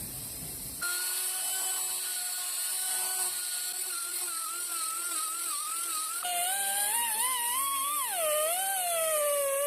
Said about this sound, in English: So I'm going to go ahead and take my reamer and open this area up here.